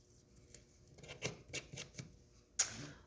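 Scissors cutting out paper die cuts, a handful of quiet snipping clicks spaced irregularly close by, ending with one sharper snip.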